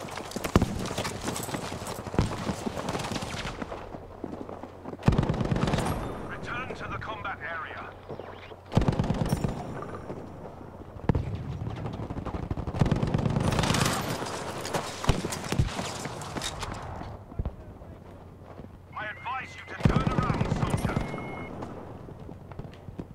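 A Lewis Gun in Battlefield 5 fires repeated bursts of machine-gun fire with pauses between, mixed with battlefield noise, galloping hooves and distant explosions, while a voice talks over parts of it.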